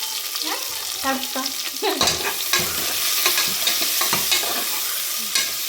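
Onion, green chili and ginger sizzling in hot oil for a Rajasthani tadka, a steady close frying hiss with scraping stirs throughout.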